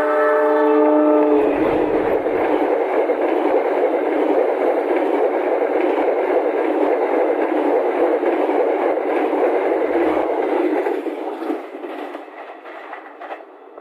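A passenger train roars straight through Cimekar station without stopping, opening with a loud horn blast, then a long steady rumble of rolling cars that fades near the end.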